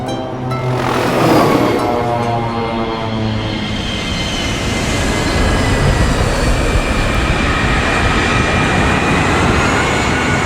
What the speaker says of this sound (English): There's Caleb's plane.